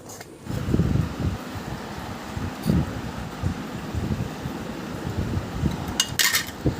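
Jute leaves being stirred in a pan, a steady close rustle with soft scraping that continues throughout, a few brighter clinks near the end.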